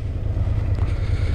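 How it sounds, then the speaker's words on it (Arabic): A Ducati Scrambler 800 motorcycle engine runs steadily, a deep, continuous throbbing rumble heard close up, mixed with wind buffeting on the microphone and no speech. "دونك نوقفوا هنا نشوفوا هذا الموتور كيفاش كيترعد."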